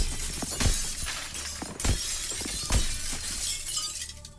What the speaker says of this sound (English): why am I just able to break glass just by walking through it?